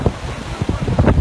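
Sea waves wash and surge around a pickup truck stuck in the surf on a beach at Villa Gesell, Argentina, under strong wind buffeting the microphone, with a steady rough roar and low rumbling swells.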